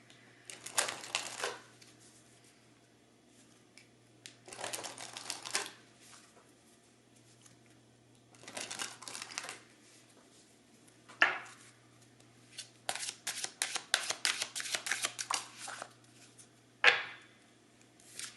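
Oracle cards shuffled in several separate bursts of crisp riffling and flicking, close and quiet, with pauses between rounds and a faint steady hum underneath.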